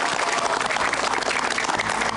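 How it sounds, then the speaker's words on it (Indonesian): Children at SD Sumur Batu 06, an elementary school, clap together on a children's charity TV program, a dense, steady burst of applause that stays close and lively throughout. "Tepuk tangan dulu."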